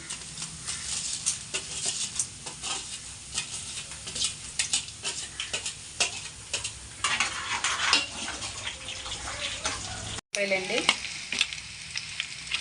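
Constant crackling sizzle of onions frying in oil, close and steady, with frequent spatula scrapes and clinks against the pan.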